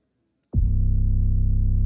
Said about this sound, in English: So this is the 808 without any effect.